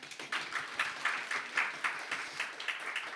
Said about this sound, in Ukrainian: Ваші оплески Марго.